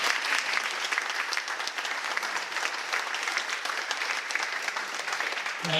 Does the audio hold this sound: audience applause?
yes